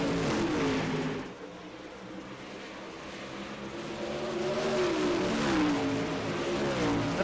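A super late model race car engine in a dirt racing video game drones at high revs, dipping briefly then climbing back in pitch as it accelerates, loud and continuous with no talking.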